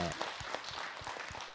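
Faint, soft applause from an audience at a Buddhist monk's Dharma talk, a brief patter of scattered claps lasting under two seconds in a quiet hall.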